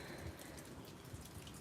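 Steady rain falls in a continuous, quiet patter of drops, with a few slightly louder splats standing out now and then. No one speaks.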